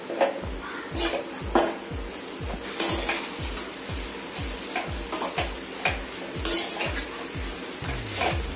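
Egg and bread burji stir-fried on a high flame, with a spatula scraping and clattering rhythmically against the pan over a steady sizzle, repeating strokes close by with no talking.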